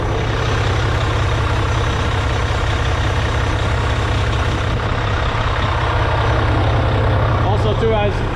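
A Mack Pinnacle CXU613 truck's diesel engine idles loud and close, a steady low throbbing rumble that holds unbroken for the whole stretch.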